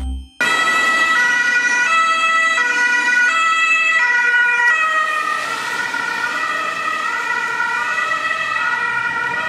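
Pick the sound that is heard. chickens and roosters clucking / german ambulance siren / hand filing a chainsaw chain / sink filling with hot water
german ambulance siren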